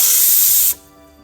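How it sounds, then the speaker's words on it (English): Loud, harsh steam hisses out of a cooker's release valve after noodles have cooked, then cuts off abruptly, leaving a faint low hum. "I'm just going to release the steam and then check."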